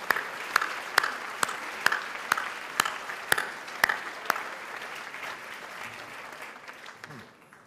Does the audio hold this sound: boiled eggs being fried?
no